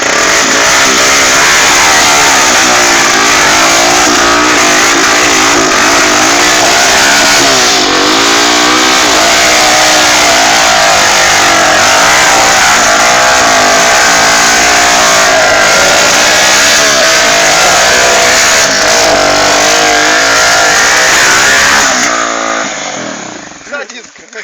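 A car engine revs and accelerates loudly and continuously, holding a sustained roar for about twenty seconds before cutting off abruptly, with people shouting and talking over it.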